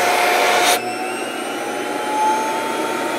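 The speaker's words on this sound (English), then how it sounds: "okay, the motor's spinning top speed" An old style 650 vacuum pump motor spins at top speed, a loud steady whine with a sustained tone after a brief burst of hissing noise at the start.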